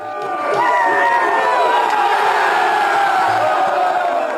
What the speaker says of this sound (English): He's doing so in a rugby club dressing room with players and coaching staff cheering him on.